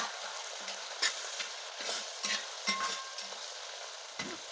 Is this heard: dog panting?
no